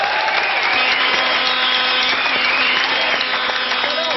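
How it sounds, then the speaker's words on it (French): A French television studio audience applauds comedian Laurent Baffie, a steady, dense wash of clapping that holds loud and even throughout with no pause. "Je propose qu'on l'applaudisse"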